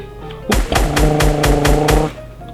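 Modded gun in the survival game Raft firing a rapid burst of about seven loud, evenly spaced shots, each a sharp crack, with a low hum beneath.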